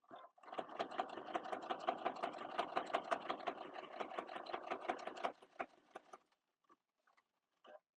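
A sewing machine stitches through a kitchen sponge in a steady rapid whir of needle strokes for several seconds, then stops and is followed by a few faint clicks as the fabric is repositioned.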